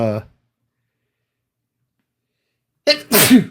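A single sharp, loud sneeze close to the microphone, preceded by a brief voice and a sudden intake, in an otherwise silent room.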